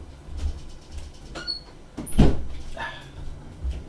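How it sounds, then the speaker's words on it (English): A room door is shut during a gaming session, a close scrape and a solid thud with smaller rattles and clicks around it, moderately loud and with no talking. "I gotta close my door."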